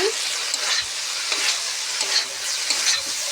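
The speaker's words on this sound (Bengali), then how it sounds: "তো ফুলকপিটা সিদ্ধ করে নিয়ে এই যে ভাজে নিচ্ছি" Boiled cauliflower being fried and stirred in a pan, a bright crackling sizzle close by with occasional scrapes and clinks.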